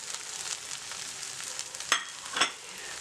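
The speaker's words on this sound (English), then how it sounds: "This masala should be fried at least for 10 to 15 minutes" Spiced masala of chili, turmeric and garam masala powders fries steadily in oil with a soft, continuous close sizzle, punctuated by two brief brighter crackles or stirs near the end; no one speaks.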